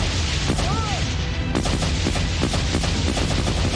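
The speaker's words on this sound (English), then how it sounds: "That's the explosion Matthias expected." Loud movie explosion with sustained booming rumble and crackling debris bursts, dense and continuous throughout.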